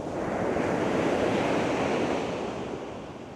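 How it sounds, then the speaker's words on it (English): Large ocean swells breaking at Baker Beach, San Francisco, a loud close roar of surf with wind buffeting the microphone, slowly easing off. "look at the swell of the waves. They're huge, absolutely huge."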